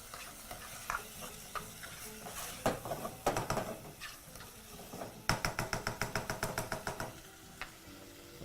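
A spoon scrapes and clinks through chicken biryani mixture in a pot, first in loose, irregular strokes, then in a quick, rhythmic run of close, crisp scrapes near the end.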